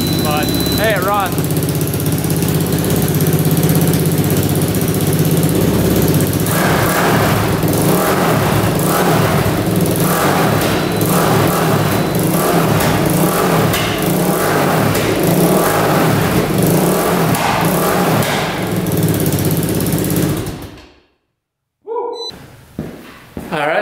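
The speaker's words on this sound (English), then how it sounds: "Yeah, there's definitely an exhaust leak right there, but hey, it runs." A quad ATV engine with an exhaust leak runs loudly and steadily up close, a rough, throbbing idle with uneven pulsing that carries on for about twenty seconds before cutting out abruptly, then sputtering briefly again.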